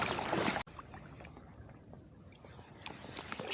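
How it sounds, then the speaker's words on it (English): Kayak gliding through calm water in a quiet cove: a short burst of splashing and gurgling paddle wash, then softer steady drips and water sounds close by. "Just kayaking into this little cove. It's just real nice and calm."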